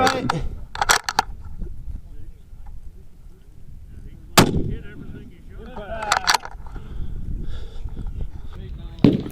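Precision rifles fired at 1,400 yards during a PRS regional long-range match: several sharp, loud cracks, one quick cluster early and then single and paired shots, each trailing off into open-air rumble with a faint voice in the background.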